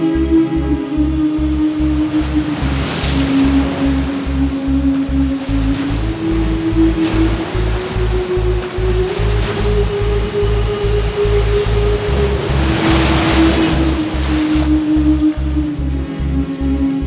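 Sea waves surge and wash steadily along a beach, a continuous loud surf roar with swells rising around the middle and near the end, under a sustained droning tone and a low rhythmic pulse.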